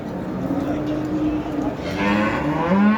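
Cattle lowing in a busy livestock market in Şarkışla, Turkey, with people talking nearby over steady background crowd noise.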